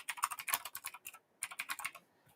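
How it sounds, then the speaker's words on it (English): Typing on a computer keyboard, quiet rapid keystrokes in two quick bursts separated by a short pause, close and alone without talk. "when I'm typing and talking at the same time, it doesn't go so well"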